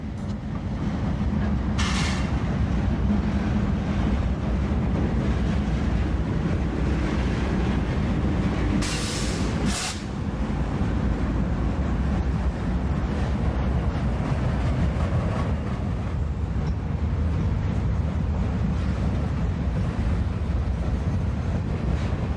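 A Norfolk Southern freight train led by a former Conrail C30-7 diesel locomotive rolls past in Cincinnati's Mill Creek Valley, a long continuous rumble of engine and railcars with brief sharp bursts from the wheels and wind buffeting.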